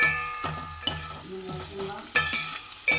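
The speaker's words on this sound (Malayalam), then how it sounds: "വെളുത്തുള്ളി ഇട്ട, പിന്നെ കൊച്ചുള്ളി ഇട്ടു. നല്ലോണം ഇളക്കി കൊടുക്കാം." Garlic and shallots fry in hot oil, crackling and sizzling close by as a spoon stirs them around the pan. Several sharp scraping strokes punctuate the steady sizzle, and no one talks.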